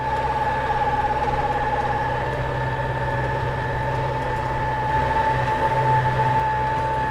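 A four-wheel-drive vehicle climbing uphill, its engine droning loud and steady from inside the cabin with a constant whine running throughout, no voices present.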